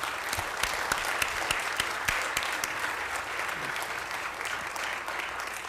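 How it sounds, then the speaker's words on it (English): An audience claps steadily for several seconds at a city councilman's swearing-in, a dense patter of hands with a few sharper claps standing out close by. "I wish that you'd give her a round of applause"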